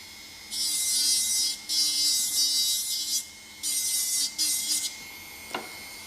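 A dental ceramic crown of NOVACer MC on a non-precious metal framework being shaped with a grinding stone, several bursts of high whirring abrasion separated by short pauses, close and steady, then a brief tap at the end.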